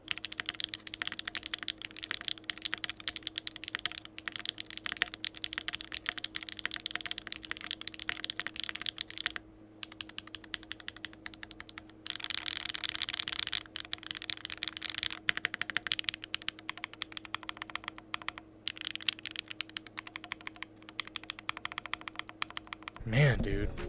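Typing on a QK65 Mk3 mechanical keyboard, with a resonant spacebar: continuous quick clacking keystrokes in bursts, close and moderately loud, broken by brief pauses, with someone talking over part of it.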